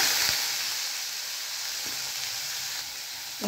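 Onions sizzling in hot oil with popped mustard seeds and a torn dried red chilli for a Tamil snake gourd kootu, a steady close hiss with a few faint stirring taps and no talking.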